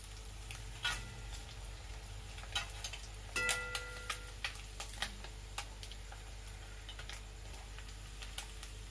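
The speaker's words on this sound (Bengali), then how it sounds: "এইভাবে আর একদিক উল্টে ভেজে নেব খানিক্ষণ" Small fish fry in oil, a steady low sizzle with scattered sharp crackles and pops throughout and a brief louder burst partway through; no voices.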